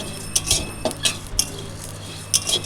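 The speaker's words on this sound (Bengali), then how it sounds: "শুকনো কড়াই জিরে আর ধনে ভেজে নিয়ে আমি একটা জিরে ধনে দিয়ে ভাজা মশলা তৈরি করে নেব।" A spoon scrapes and taps against a dry pan as cumin and coriander seeds are dry roasted, giving scattered metallic clinks over a soft background hum.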